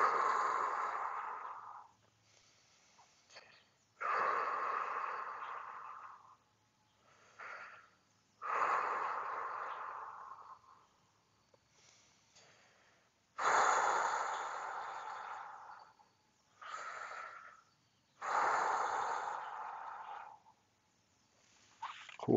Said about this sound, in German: Und 5-mal schnaufen.